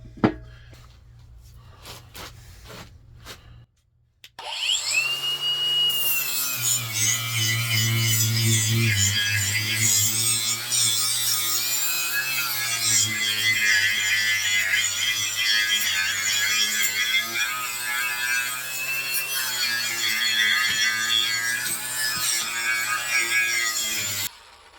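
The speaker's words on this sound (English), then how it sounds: "got some of the paint off" Paint being stripped from metal saw wheels with a power tool, a loud, continuous abrasive grinding whine that starts after a few seconds of quiet clatter and runs steadily for about twenty seconds.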